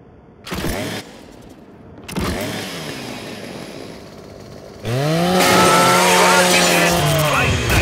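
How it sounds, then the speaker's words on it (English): In the Gears 5 video game, a Lancer rifle's chainsaw bayonet revs in two short bursts and then grinds through a custodial robot in a long, loud, whining cut, with voices heard along the way. "Just use your Lancer's chainsaw."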